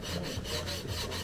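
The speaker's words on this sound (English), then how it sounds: "It's hard keeping a little piece of sandpaper. On these lines." A small piece of sandpaper rubbed by hand along lines on wood, a steady close scratchy rasping with quick back-and-forth strokes and no talking.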